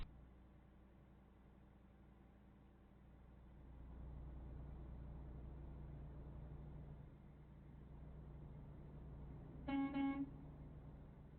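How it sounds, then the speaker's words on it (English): A brief, loud truck air horn blast near the end of a driving video game, on a Western Star 5700XE, sounding over a steady low engine rumble and road noise. "There's the air horn. That was loud."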